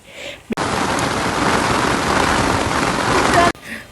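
Heavy rain drumming on a rooftop terrace, a dense, steady wash of sound that starts abruptly and stops just as sharply about three seconds later.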